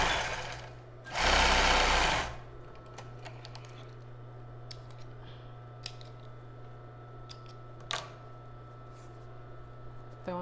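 A sewing machine runs a burst of zigzag stitching on a child's bra, loud and close for about a second, then a low steady hum continues with scattered small clicks and handling noises.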